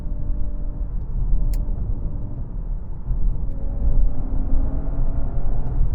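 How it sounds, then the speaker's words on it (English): Artificial sporty engine sound piped into a Honda CR-V plug-in hybrid in sports mode, a steady low synthetic hum and rumble that swells slightly partway through, continuous and close inside the cabin with no talk. "I have never heard such a ridiculous fake noise added to a car before."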